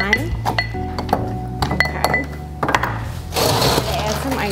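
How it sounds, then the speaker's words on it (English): Muddling watermelon, mint and lime in a cocktail glass for a watermelon martini, with clinking glass and knocking taps, short scraping bursts and a louder stretch of grinding at the end, close to the mic with some talk. "Now I'm going to muddle that together to get everything mixing well"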